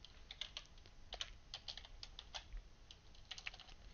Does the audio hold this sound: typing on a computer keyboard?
yes